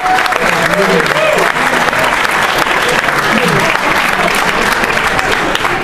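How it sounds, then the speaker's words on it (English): A live storytelling event crowd in Detroit claps loudly and continuously, a thick wash of hands close by with voices murmuring underneath. "Let's give them a round of applause for being very sweet."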